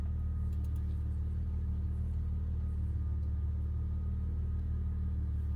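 A Saab car's engine idles steadily throughout, a constant low rumble with a faint hum above it and no change in pitch, heard from close by with no voices.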